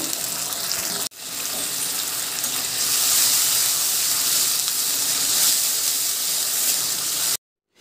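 Ginger, garlic and green chili paste fries in a pan for prawn malai curry, a loud, close, steady sizzling hiss after a brief thud as it goes in, then cutting off abruptly.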